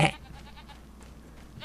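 A goat in Farming Simulator 25 bleats loudly once at the very start, then only a low, steady background hum remains with faint clicks.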